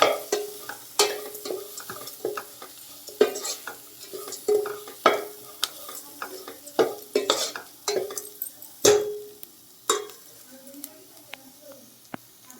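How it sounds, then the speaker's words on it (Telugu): Onion frying in a pan for a Godavari-style yam and amaranth curry, with a spatula scraping and stirring in repeated strokes over a steady close sizzle. "ఉల్లిపాయ బాగా కొంచెం సగం వేగాలి వేగితే బాగుంటుంది"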